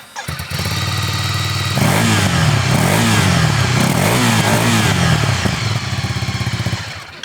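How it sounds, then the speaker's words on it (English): A 2023 Ducati Scrambler cranks and fires, settles into a loud lumpy twin-cylinder idle, then blips through several sharp revs that rise and fall before dropping back to a pulsing idle, close by with no voices. "I'm getting more noise from the engine and the intake, I think, than I am from the exhaust"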